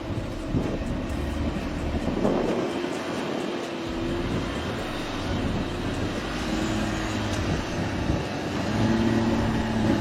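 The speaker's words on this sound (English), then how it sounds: "Wheels keep spinning because of poor grip." A heavy Land Rover SUV off-road on loose soil revs continuously as its wheels spin without grip, making a droning engine note with wavering tones throughout.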